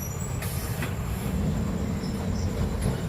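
A Kolkata tram rumbles steadily along rails, a low continuous roll with faint high squeals from the wheels.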